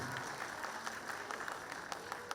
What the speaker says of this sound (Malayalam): പ്രവാസി വെൽഫെയർ ഓർഗനൈസേഷൻ്റെ ഭാരവാഹികൾക്ക് ഒരു വലിയ കയ്യടി കൊടുക്കാം